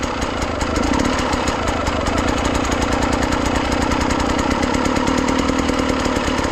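An enduro motorcycle engine runs loud and close with a rapid steady beat, the rider working the clutch so the revs hold and flutter slightly without pause.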